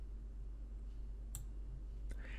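Computer mouse clicking, two faint, sharp, separate clicks over a steady low hum, with no one speaking.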